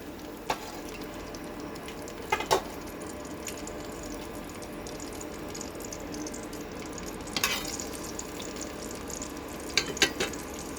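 Eggplant slices fry in hot oil in a wok, giving a steady, soft sizzle with a few sharp clinks and splutters scattered throughout.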